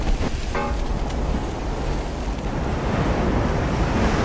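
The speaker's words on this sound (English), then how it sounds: "Oh, the shell splashes." Naval shells splash into the sea during a warship battle game, heard as a loud, continuous wash of surf and spray with a few brief bursts near the start.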